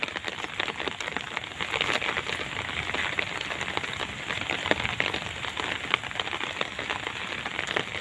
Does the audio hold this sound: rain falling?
yes